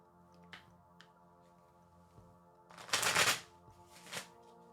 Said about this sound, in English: I'm going to do my poker shuffle